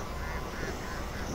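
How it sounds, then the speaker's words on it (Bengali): Many ducks at a newly built duck farm in the Chalan Beel area of Chatmohar, Pabna, quack together in a steady, dense chorus, faint and somewhat distant, with no talk over it. "আপনারা স্ক্রিনে দেখতে পাচ্ছেন অনেক হাঁস, একটা হাঁসের খামার"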